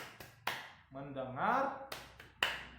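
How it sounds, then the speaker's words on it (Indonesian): A 'tepuk fokus' focus clap routine led for a group of women: a few sharp, separate hand claps set between lines of a rhythmic spoken chant from a nearby speaker. "kita lakukan tepuk fokus ya Bu"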